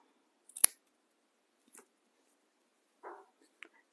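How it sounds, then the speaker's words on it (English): Scissors snip through paper or fabric during a gnome craft, one sharp close cut followed by a few softer, sparse snips in a quiet room. "Let's just cut this off."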